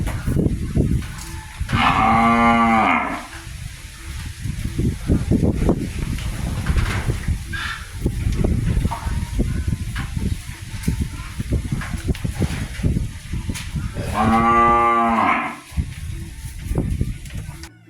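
Cattle on a farm give two loud, drawn-out moos, one near the start and one near the end, over steady wind noise and background farm sounds.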